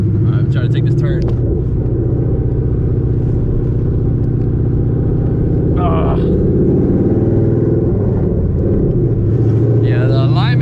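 A Coyote-swapped SN95 Mustang with a loose alignment rumbles steadily through a turn, its deep engine drone constant from start to finish while people talk over it inside the car.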